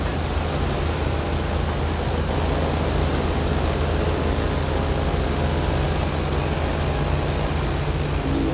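Loud, constant roar of a propeller airplane cabin with the door open, rushing wind making a dense unbroken wash of engine and air noise.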